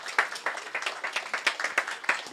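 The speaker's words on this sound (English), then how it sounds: "Please give a round of applause to His Excellency," Audience applauding His Excellency Mr. Dangor at a formal event, a steady patter of hand claps lasting about two seconds at moderate level.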